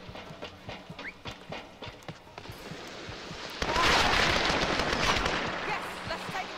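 An opponent's gun in a Tomb Raider multiplayer match fires a rapid string of shots, first as separate distant pops and then as a louder, sustained burst that fills the second half amid game noise.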